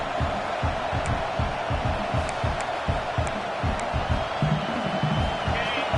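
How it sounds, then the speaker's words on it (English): A large American football stadium crowd roars steadily, a dense wash of cheering and shouting with scattered whistles and claps, loud and continuous throughout. "It's early, but this crowd is fired up. Listen to this noise here."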